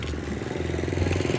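A rough, rumbling tractor engine starts, idles and revs with a rattling, clattery texture, loud and close, continuous throughout.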